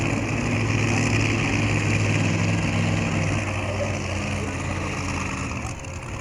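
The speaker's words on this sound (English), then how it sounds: "Sounds like we got Carly Pistalco firing up again" A super mini class pulling tractor engine idles and drones steadily at a night pulling event, a continuous mid-distance rumble that fades slightly toward the end.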